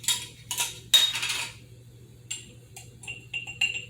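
Garlic cloves dropped into glass canning jars for lamb stock give several sharp, close clinks and taps. A few come quickly together at first, then lighter ones follow sparsely.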